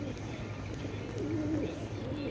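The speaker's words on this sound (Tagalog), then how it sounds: "Yan mga kalapati. Ang cute na mga kalapati." Pigeons coo softly in a flock gathered on the ground, low throaty murmurs rising and falling over a constant background hum, with one clearer coo near the middle.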